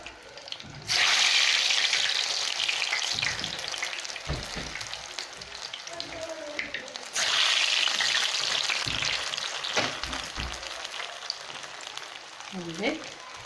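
Algerian honey makrout dough drops into hot oil and sizzles loudly in a steady hiss. A fresh surge of frying comes midway as more dough goes in, and a voice is briefly heard near the end.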